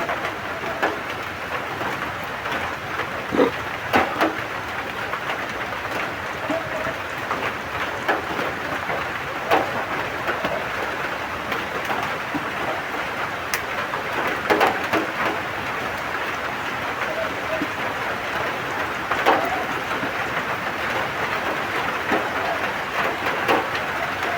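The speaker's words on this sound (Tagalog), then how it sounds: "Ano, umulan pa tol." Rain falls in a steady, even hiss throughout, with scattered louder patters and drips. Faint voices can be heard now and then beneath it.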